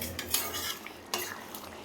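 A spoon scrapes and clinks against a pan while stirring chicken curry just after garam masala has gone in. There are a few sharper knocks among the steady stirring, close up, with no talking.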